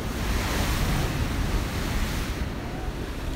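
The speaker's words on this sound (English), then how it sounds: "All I see is people surfing and waves." Ocean surf breaking at Seal Beach, California, a loud continuous roar of waves with heavy wind buffeting the microphone, no voices.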